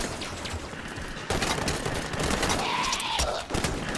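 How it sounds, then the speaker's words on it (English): Enemy gunfire in the video game Halo 5: Guardians, a dense fusillade of rapid shots and booms fired from a ramp, loud and continuous, with a sharp jump in intensity partway through. "Enemy firing from the ramp."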